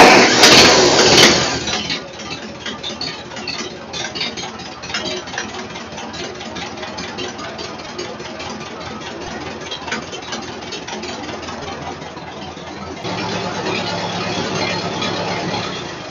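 A Ferguson TO-35 tractor engine runs in neutral with the throttle turned down, a steady mid-pitched idling drone that is louder for the first couple of seconds and again near the end.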